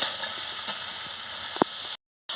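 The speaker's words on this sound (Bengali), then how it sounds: "মশলা মানে পোস্তটাকে ভেজে নিচ্ছি ভালো করে" Poppy seed paste fries in a pan with a steady hiss, one sharp stirring knock, then a brief cut to silence before the sizzle resumes.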